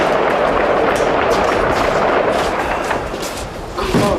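Dense, continuous crackle of explosions and gunfire in wartime Grbavica, Bosnia, with overlapping bursts and no clear pauses over a few seconds.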